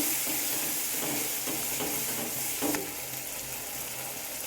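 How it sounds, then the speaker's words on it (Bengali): Spice paste with turmeric frying in a pan after a splash of water, a dense close sizzle and hiss with soft stirring scrapes running throughout. "এরপর এটাকে একটু হালকা করে জল দিয়ে নেব মশলাটাকে ভালো করে কষানোর জন্য।"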